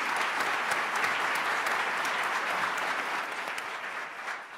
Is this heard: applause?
yes